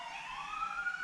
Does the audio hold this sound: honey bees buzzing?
no